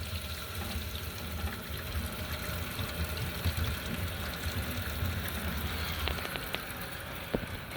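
Steady rushing and hissing of water pouring into a dual flush toilet tank as it refills, continuous throughout with a few faint clinks near the end.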